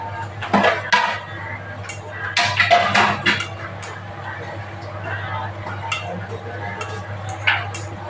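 Dough being mixed by hand with refined oil in a bowl for puris, soft scraping and occasional clinks against the bowl over a steady low hum, with someone speaking at times.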